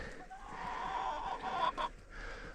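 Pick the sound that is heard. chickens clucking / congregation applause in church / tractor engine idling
chickens clucking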